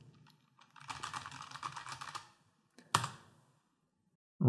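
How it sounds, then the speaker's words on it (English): Computer keyboard typing comes through as a quick run of close, crisp clicks, followed after a pause by one sharp separate click, with no voices. "on purpose I've added quite a few keyboard clicks here"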